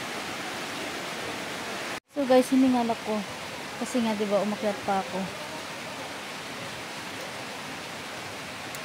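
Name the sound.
rain falling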